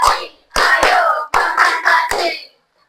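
A school class claps together in a classroom clapping game, sharp group claps in short bursts of one, two and three, separated by brief pauses and ending in silence.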